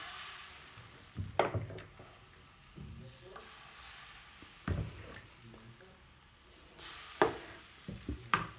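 A crêpe cooks in a pan, giving a soft sizzle with occasional scraping and clattering of a utensil, faint and intermittent.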